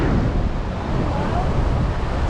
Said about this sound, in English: this section right here is not the biggest waves, but there's still big waves compared to other places like beaches we've been